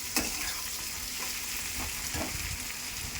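Vegetables stir-frying in a pan for chowmein, a dense, steady sizzle close up with soft stirring scrapes now and then, no voices present.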